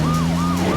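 A police car siren in a movie scene, a loud wailing tone that sweeps up and down in quick repeated cycles over a steady low engine hum.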